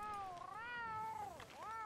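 A single cat meows in Red Dead Redemption 2, one long wavering, rising and falling cry that dips midway and swells again, close and clear with no talk over it.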